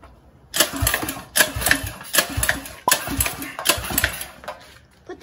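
A go-kart engine is hand-cranked repeatedly without catching, giving a series of rhythmic, rattling mechanical pulls close by, about five or six strokes in quick succession.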